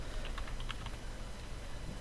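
Rapid keystrokes on a computer keyboard while entering code, a quiet stream of light clicks over a steady background hiss with no one talking.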